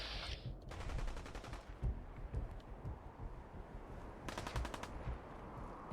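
Fallout 4 video game combat with grenades in play: bursts of rapid automatic gunfire in two distinct volleys, separated by scattered single shots and dull thuds. The whole scene sounds fairly distant and quiet over a faint background wash.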